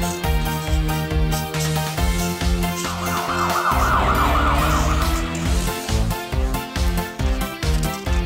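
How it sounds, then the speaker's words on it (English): A police car siren wails up and down in a children's nursery-rhyme song, rising over a bouncy beat and steady music for a few seconds mid-song. "Police car, moving out!"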